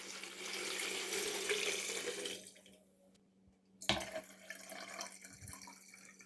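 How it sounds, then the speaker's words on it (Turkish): Drinking water poured into a plastic jug: a steady splashing, gurgling pour close by that stops after a couple of seconds, followed by a sharp plastic knock and faint quiet handling. "Üzerine içme suyu dolduruyorum."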